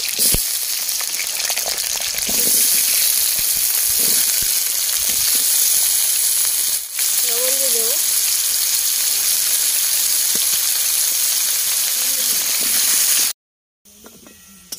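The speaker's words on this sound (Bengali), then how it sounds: "আলুটা আগে ভেজে নেব।" Potatoes frying in a wok give a loud, steady hiss and sizzle throughout, with a short spoken remark partway through and a brief drop at the end.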